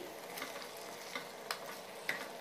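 Village-style mutton curry simmers in oil in a pot and is stirred, giving a steady low sizzle. A few soft spoon scrapes sound now and then over it, quiet and close, with no voices.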